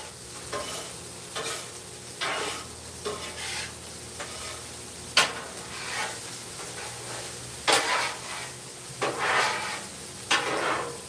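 Rice fries in sesame oil with a steady sizzle, broken by repeated scraping stirs and a few sharp clatters of a utensil against the pan, close and alone.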